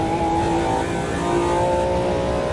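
A classic road car engine in Automobilista 2 revs hard on closed public roads, a loud, close, tonal whine holding steady with a slight pitch shift, alone without speech.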